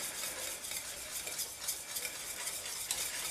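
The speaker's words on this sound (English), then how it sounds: "And then a tablespoon of butter, okay? And just whisk that all together." Butter being whisked into lemon meringue pie filling in a pot, a continuous close scraping and swishing with a faint sizzling texture, steady and fairly quiet with no talking.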